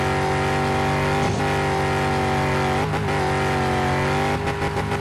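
An old car's engine in My Summer Car revs loud and close, holding a steady droning pitch with several brief dips and rises as the throttle shifts.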